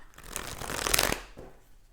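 Tarot cards being shuffled by hand, a short, close riffling burst that swells and fades within a couple of seconds, heard alone without talk.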